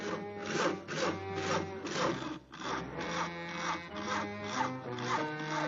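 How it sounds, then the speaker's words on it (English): Rhythmic back-and-forth rasping strokes of a hand saw cutting a tree limb, about a dozen even strokes, close and clear. "Isn't that your house Harry is sawing on"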